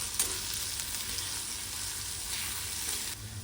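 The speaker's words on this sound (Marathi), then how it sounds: "मसाले देखील कांद्यावर मस्त असे परतवून घ्यायचे आहे" Spices stirred into onions in a frying pan, a steady close sizzle that runs evenly throughout with no one talking.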